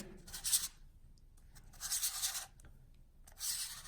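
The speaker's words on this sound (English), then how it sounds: "you have to screw the pole filter out" A polarizing filter being unscrewed from a Nisi V5-Pro filter holder, three short gritty rubbing turns of threaded metal close up, separated by brief quiet pauses.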